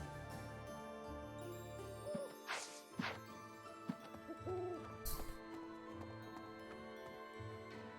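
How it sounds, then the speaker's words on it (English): Owl hooting in the video game Fire Emblem: Three Houses, a few soft hoots rising over a steady background music bed, with a bright chime near the end. "Oh, it's an owl."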